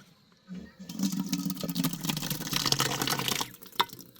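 Cold ice water poured steadily into a grinder jar with gooseberries for a panakam drink, a close, continuous splashing gush lasting about three seconds before stopping, followed by a single small knock.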